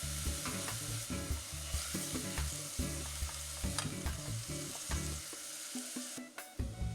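Pork sizzling steadily in a pan as miso is added and stirred in, a dense, even frying hiss with soft scraping and stirring throughout.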